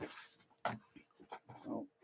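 A dog snuffles, grunts and whimpers close by in short irregular bursts, with no talk.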